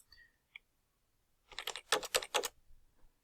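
Fingers typing a zip code on a computer keyboard, a short quick burst of about six crisp key clicks close by, preceded by a couple of faint taps in an otherwise quiet room.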